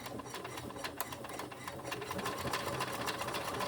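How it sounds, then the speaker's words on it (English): A sewing machine runs steadily while stitching a pocket, a continuous close mechanical whir with rapid needle ticking and no talk. "Okay, so we're gonna sew up to the middle, and then we're gonna sew up to the top of the pocket."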